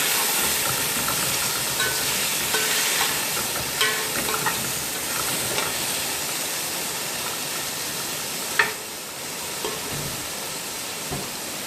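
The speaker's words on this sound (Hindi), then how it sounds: "एक से 2 मिनट के लिए मैंने चिकन को फ्राई किया।" Chicken fries in a pot with a steady, loud broad sizzle and hiss, broken by a few soft pops and one sharper crackle near the end, with no voices over it.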